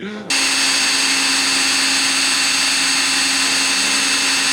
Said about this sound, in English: This pump is not meant for gasoline, so I think we just burnt it out already.